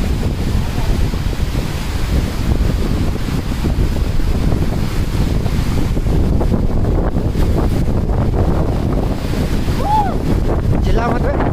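Vasudhara waterfall near Badrinath, its rushing water a loud, dense, unbroken roar mixed with heavy wind buffeting close to the microphone, with faint voices briefly audible near the end.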